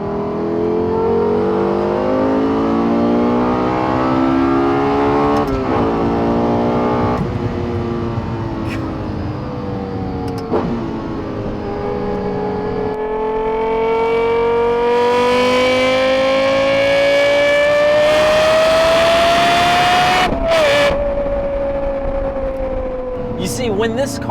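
Lexus LFA with its 4.8 liter V10 revving loudly nearby, the pitch climbing and falling through several rev sweeps with sharp gear-change breaks, over a steady road roar.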